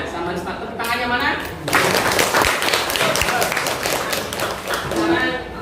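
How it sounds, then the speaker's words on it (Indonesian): A classroom full of students breaks into applause for a classmate, dense clapping swelling in after a short pause and continuing steadily, with a murmur of voices mixed in. "Tepuk tangannya mana?"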